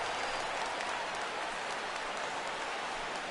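A video game stadium crowd in MLB The Show 17 hums as a steady, hissing wash of cheering and clapping during an Orioles versus Red Sox game, with no clear peaks.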